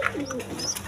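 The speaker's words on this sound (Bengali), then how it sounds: "একদম গররা কবুতর, দুটা বাচ্চা সহ" A Gorra pigeon at a breeding farm gives a single brief, close coo.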